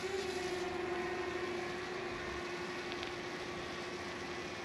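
A DJI Mini 2 drone flies and climbs, giving off a steady high-pitched motor whine with a strong tonal drone that stays fairly faint and distant, with no talk.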